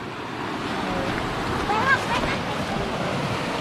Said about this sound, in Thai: อืมน้ำตกครับ ท่านผู้ชม